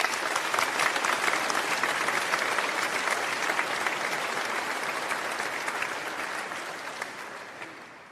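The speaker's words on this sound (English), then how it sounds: "it would be really appropriate to give a round of applause to all of those who have supported you" Sustained round of applause from the audience at a graduation ceremony, dense and even clapping from a large crowd that holds strong for several seconds before gradually tapering toward the end.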